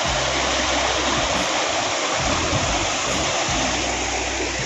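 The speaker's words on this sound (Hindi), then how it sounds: "यहाँ पानी का फ्लो देख रहे हैं ना आप, इतना ज़्यादा है।" A strong mountain stream rushes through a gadera crossing, a loud unbroken roar of water very close by with no voices.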